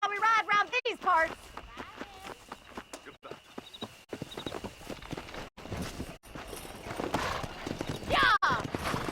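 Horses in the western game Red Dead Redemption, with clip-clop hoofbeats and a whinny running under steady talk between riders.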